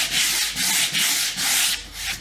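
Hand sanding on painted wood for a wooden sign: steady back-and-forth scratchy rubbing strokes, about five even passes in a regular rhythm, close and fairly loud, with no voices.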